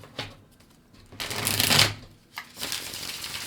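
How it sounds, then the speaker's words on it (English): Cards being shuffled in quick riffling bursts, a short flick, a longer loud riffle, then another burst, close to the listener with no talking. "One more shuffle."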